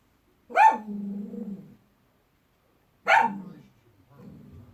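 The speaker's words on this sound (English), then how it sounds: "Why is that dog barking like that?" A dog gives two separate barks a few seconds apart, each a sharp onset trailing into a drawn-out, whining tail, close and fairly loud with silence between.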